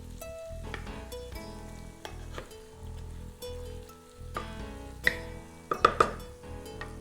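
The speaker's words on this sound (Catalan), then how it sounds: "I li donem un parell de voltes que s'empapi d'aquest sofregit tan fantàstic que hem fet." Sofregit sizzles steadily in a pan while it is stirred for rice with salt cod, a continuous close frying hiss broken by scraping and a few sharp clinks of the utensil against the pan.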